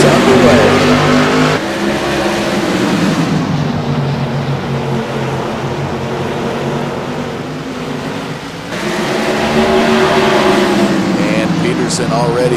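Modified race cars accelerate together at a green-flag restart at Thompson Speedway, a loud, continuous engine roar with rising revs filling the whole clip while a commentator talks over it.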